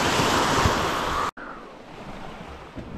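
Sea water rushes and splashes loudly around a motor boat on the Black Sea amid wind buffeting the microphone, then cuts abruptly to a quieter, softer wash of water.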